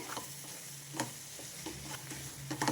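Mutton spleen curry with a spoon of mutton masala mixed through in a pan, with a soft sizzle and a few scattered clinks and scrapes from the stirring, faint and close, with no speech.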